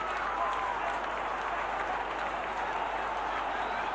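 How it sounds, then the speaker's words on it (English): Large football crowd roaring steadily at a Leicester soccer match during the second half, a broad continuous wash of cheering and applause with no clear breaks throughout. "that's really got the crowd going now"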